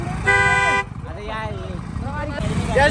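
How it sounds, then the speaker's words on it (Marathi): Car horns blare in a traffic jam on the way to the Mhasa fair: one long, loud honk is followed by shorter, fainter toots and engine rumble, with voices talking underneath. "जाम ट्रॅफिक झाले बाबा म्हशा म्हणजे ट्रॅफिक कसं"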